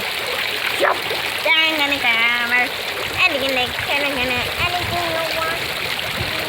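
A water fountain runs with a steady, close splashing and trickling wash that fills the background while someone talks over it throughout.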